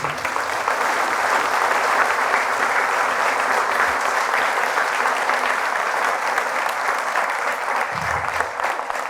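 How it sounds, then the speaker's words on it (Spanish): A church congregation gives a long, loud round of applause during a Catholic priest's homily, steady, dense clapping filling the room from start to finish with no talking. "Fuertes aplausos a Jesús."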